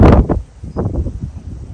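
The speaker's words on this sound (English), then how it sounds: "So the wind is kicking up." Wind gusts outdoors against the microphone in heavy, low buffeting rumbles that swell and fade, loud and close, with no voices.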